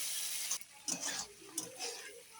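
Spice masala of coriander and cumin powder frying in a pan with small splashes of water, a faint hiss with a few soft stirring scrapes and knocks.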